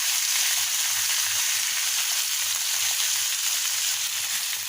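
Pointed gourd shoots and potato hit hot oil with fried onion and garlic, giving a steady, close, bright sizzle with faint low bubbling pulses beneath, continuous and unbroken.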